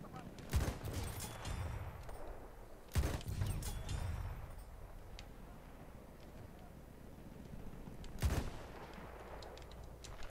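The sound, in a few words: Martini-Henry rifle gunshots in a video game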